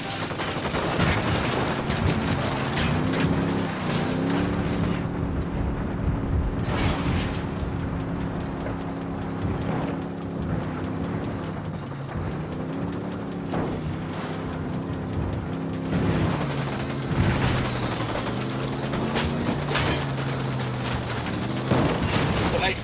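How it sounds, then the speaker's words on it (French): Gunfire and explosions in the video game Ghost Recon Wildlands: a dense, loud barrage of rapid shots and rumbling blasts that runs throughout, with a voice speaking over parts of it. "Ça a explosé."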